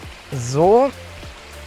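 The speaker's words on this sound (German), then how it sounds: "hört sich tatsächlich auch schon nach Wasserfall an" A steady, distant rush of falling water from the Heslacher waterfalls in Stuttgart forms a continuous broadband hiss throughout, with someone briefly speaking over it.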